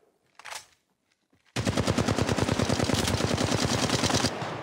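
Apex Legends Mobile video game gunfire: after a brief faint shot and a near-silent pause, a loud, close automatic weapon opens up in a rapid, steady stream of rounds for nearly three seconds before cutting off.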